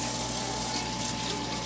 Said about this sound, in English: Let me get my hot water going.